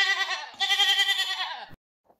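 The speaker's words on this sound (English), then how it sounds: "when I sped it up, it sounded like a goat!" A sped-up recording of an animal call: a single drawn-out, quavering bleat like a goat's, high and nasal, lasting under two seconds before cutting off into near silence.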